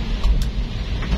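Morning rain falls on a city street in Manado, Indonesia, a soft steady wash with low traffic rumble beneath and a couple of brief brighter splashes.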